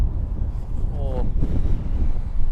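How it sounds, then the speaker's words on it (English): Wind buffeting a microphone outdoors during golf practice, a low rumbling roar throughout, with a brief faint tonal chirp in the middle. "It's pretty windy here today."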